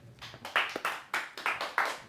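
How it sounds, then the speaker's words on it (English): A small studio audience applauds, just a few sharp, separate hand claps in a loose, steady rhythm, close and fairly dry, with no crowd roar. "Oh, what an incredible round of applause."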